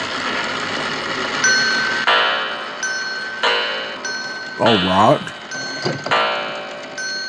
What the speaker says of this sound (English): It's a clock.